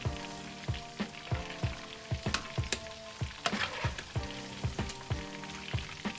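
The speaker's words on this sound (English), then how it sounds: "And this is the first frying." Chicken pieces fry in oil with a soft sizzle while a utensil knocks and scrapes in a steady rhythm, fairly quiet and close.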